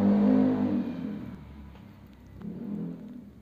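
A motorbike revs loudly as it passes a house: a close engine roar swells and then fades, followed by a second, softer swell of engine noise a moment later.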